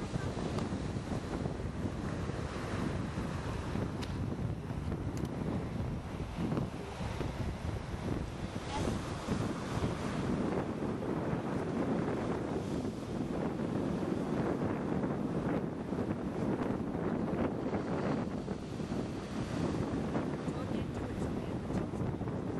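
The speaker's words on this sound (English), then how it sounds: "It's very windy too." Strong wind buffets the microphone at Cedar Beach in Avalon, a steady loud roar blended with surf washing in throughout, with no talk.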